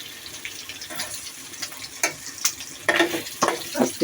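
Boiled food fries in a pan at close range with a steady hiss. Louder crackles and clatters break in now and then as the pieces are stirred.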